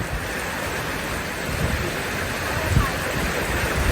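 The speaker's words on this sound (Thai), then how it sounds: "ไม่รู้ฝนจะหยุดเมื่อไหร่" A dense, steady hiss of heavy storm rain pours down without letup on a tent campsite at Khao Yai, Thailand, with low rumbling underneath.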